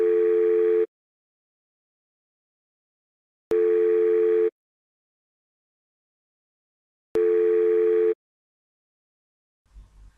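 Three long electronic ringback tones from a phone line, evenly spaced with silent gaps between them, then a faint rustle at the end.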